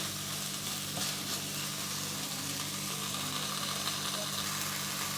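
Okra sautéing in a pan for a yogurt bhindi dish, a steady, even sizzle that runs unbroken and moderately close throughout, with no voices.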